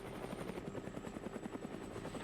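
Helicopter rotor chopping in the Brick Rigs video game, a steady rapid rhythmic thumping with a whine above, continuous and fairly close, no talking.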